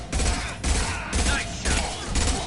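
High-impact weapon fire in Mass Effect 2 on PS5: a run of loud, close bursts of gunfire that come in several heavy pulses with brief gaps between them.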